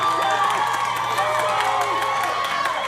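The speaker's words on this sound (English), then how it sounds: "This crowd coming alive, trying to cheer on Cal Herro and Tony Gunn" Wrestling arena crowd at a steel cage match, a steady roar of cheering and shouting that fills the whole clip at close, loud level, with a commentator's voice running over it.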